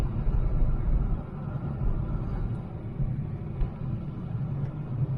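A BMW i3 with range extender rolls up to a house, a low, steady rumble of the car in motion that swells and settles slightly over several seconds, with no talking.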